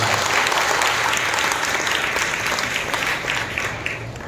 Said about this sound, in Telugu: ఈ దినము దేవుడు మనందరినీ సజీవులుగా ఉంచినందుకు ఒకసారి బిగ్గరగా మనం చప్పట్లు కొట్టి ప్రారంభించాలి.